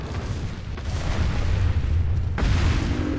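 Rifle shots in the video game Resident Evil 4 during a village fight, heavy booming blasts, one near the start and a sharper one later, over a rumbling game background.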